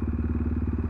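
A motorcycle rides along a dug-up, dusty road full of potholes. Its engine throbs in a steady, close rhythm for a second, and a brief burst of noise comes near the end.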